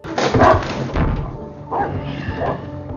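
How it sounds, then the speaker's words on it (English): A dog barks out on a street, a few loud, close woofs in two bursts with a short gap between them, mixed with thuds. "He goes running down the street, and a dog starts barking,"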